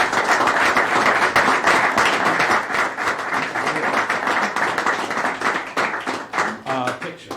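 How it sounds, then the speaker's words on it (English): Applause and clapping fill a council meeting room after a retirement presentation, a dense steady patter of many hands lasting several seconds, with some voices mixed in. "Let's give Lynn a great big round of applause."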